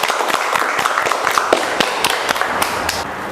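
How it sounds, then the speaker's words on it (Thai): A classroom of children clapping for their classmates, with sharp, slightly uneven claps close by that keep up at a quick pace for a few seconds. "ขอเสียงปรบมือให้เพื่อนๆ หน่อยค่ะ"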